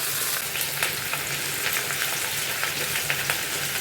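Fish fries in hot mustard oil with a constant loud sizzle and faint crackles, close up and steady with no voices.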